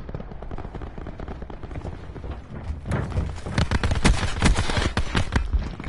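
Pistol fire in the Black Ops Blackout video game mode: a rapid run of punchy, close shots that grows denser and louder in the second half, with no one talking.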